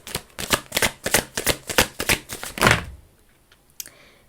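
A tarot deck is riffled in a fast run of crisp, close card flutters lasting a few seconds, then stops, followed by a faint single card snap.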